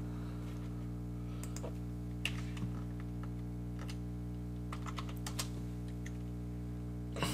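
Keys on a computer keyboard click in irregular, quiet bursts of typing over a steady low electrical hum, with short pauses between groups of keystrokes.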